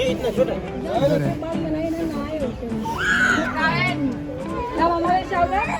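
Visitor crowd chattering at the tiger enclosure of Byculla Zoo (Rani Baug), Mumbai, with children's voices mixed in, a steady close babble of many overlapping conversations throughout.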